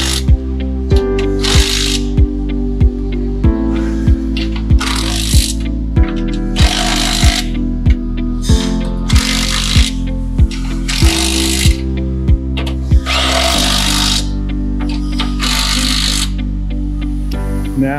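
A power tool tightens fasteners on a 24-inch livestock weigh bar scale in loud, repeated bursts of whirring and ratcheting, each run a second or so long, separated by short pauses, with no talk.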